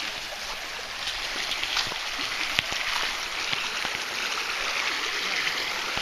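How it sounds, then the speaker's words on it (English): A fast-moving Ozark river rushes steadily and close by, a constant broadband wash of water with small splashes and clicks scattered throughout, no voices. "Here's the river. It's moving pretty fast."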